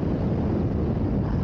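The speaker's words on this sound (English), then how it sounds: "I'm fighting a huge headwind." A strong headwind hits the microphone while riding an electric unicycle outdoors, making a loud, steady low roar of buffeting wind noise with no talking.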